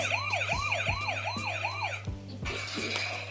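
A toy's electronic siren wails in rapid looping sweeps, then switches to a different warbling tone, close and fairly loud.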